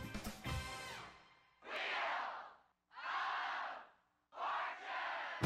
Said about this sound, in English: Looks like a nice crowd tonight, doesn't it?